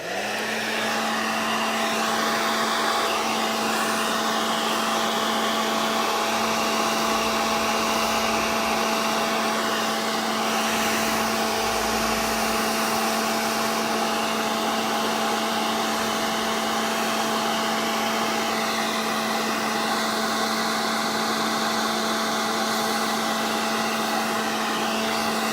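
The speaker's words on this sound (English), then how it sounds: "So, hairdryer. It's going to get loud" A hair dryer heats and shapes resin model parts, blowing a loud, unbroken whine with a steady tonal hum and rushing air that runs alone the whole time.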